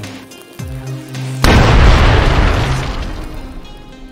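Bombardment explosion in Lambda Wars, a loud sudden boom followed by a long rumbling, crackling decay, preceded by a quieter mechanical hum and a brief descending tone.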